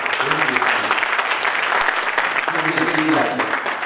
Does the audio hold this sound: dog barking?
no